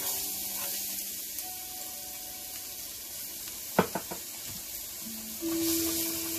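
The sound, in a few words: chopped garlic frying in oil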